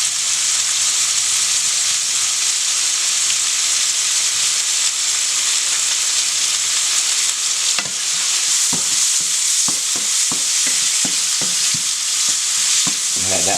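Taco filling seasoned with black pepper, curry and taco sauce sizzles loudly in a pan, a constant close frying hiss with a few clicks of stirring toward the end.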